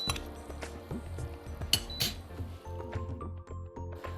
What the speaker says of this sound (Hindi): अब गुड़ को भी इसमें अच्छे से मिक्स कर लेते हैं